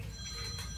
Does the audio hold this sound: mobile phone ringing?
yes